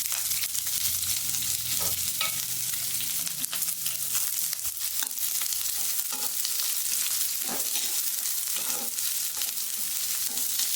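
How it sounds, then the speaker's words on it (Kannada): Chopped onion and green chillies are tempered in hot oil, giving a continuous loud sizzle with scattered stirring clicks and pops. "ಈರುಳ್ಳಿ ಮೆಣಸಿನ್ಕಾಯಿ ಕಟ್ ಮಾಡ್ಕೊಂಡಿದ್ದೀನಿ ಒಗ್ಗರಣೆ ಹಾಕ್ತೀನಿ"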